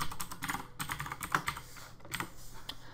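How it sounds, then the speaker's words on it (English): Fast typing on a loud computer keyboard while coding, crisp irregular clacks in quick bursts with brief pauses, close and fairly quiet, no speech. "I apologize for my keyboard."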